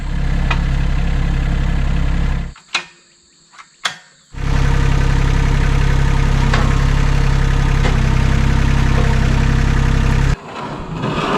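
A loud tractor engine rumbles close by, cutting out briefly for a couple of seconds with a few clanks before starting again and running steadily.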